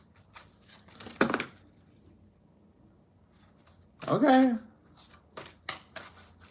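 Tarot cards shuffle in a few brisk, papery bursts close to the microphone, separated by quiet gaps, while someone briefly speaks.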